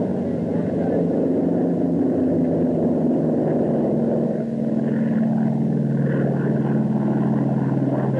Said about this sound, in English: a chopper flies watchfully behind